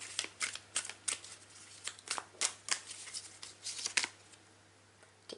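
Tarot cards are shuffled by hand in a quick series of crisp riffling snaps and flutters, about a dozen bursts close to the ear, fading into quiet at the end.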